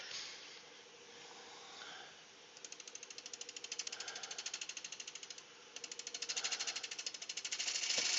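A gouge or chisel cuts a mortise into a large pitch pine bowl blank, giving rapid rhythmic chattering bursts in two long runs with a brief pause between them, fairly close, with no talk.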